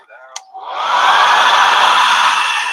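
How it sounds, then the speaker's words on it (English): A hair dryer whirs up and settles into a loud, steady blowing roar, close by, after a brief click at the start. "I need the hair dryer."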